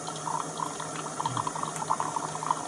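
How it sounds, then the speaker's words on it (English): Water drips and trickles out of an Esbit coffee maker set on a gas canister stove, a close, steady patter of small droplets over a low hiss. "Yeah, it's dripping out pretty bad."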